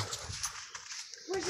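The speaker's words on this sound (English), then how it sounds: "There's a dog." A dog outdoors in snow gives a short whimpering yip near the end, faint and brief over wind-like background noise.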